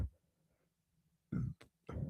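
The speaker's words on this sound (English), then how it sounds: "Man, now I got to burp." A person lets out a burp, two low guttural bursts near the mic with a short click between them, following a moment of near silence.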